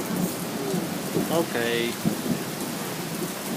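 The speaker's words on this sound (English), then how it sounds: "This is a lot of rain." Heavy rain during a Montana thunderstorm, a loud continuous downpour with low thunder rumbling beneath it, while a person speaks briefly over the storm.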